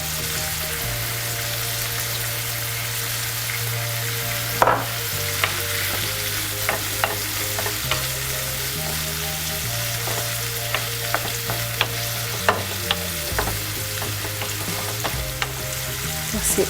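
Shrimp sizzle steadily in a hot pan with garlic and chives, a continuous frying hiss with occasional stirring clicks and scrapes throughout, fairly close and with no talking.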